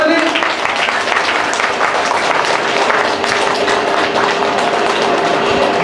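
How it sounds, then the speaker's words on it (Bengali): A group claps together at a yoga session, a dense, loud, continuous patter of hands that lasts throughout with no pauses. "একটু হাততালি।"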